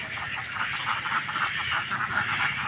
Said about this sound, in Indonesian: Wah, ini saya punya bebek juga ini teman-teman, cukup berisik ya.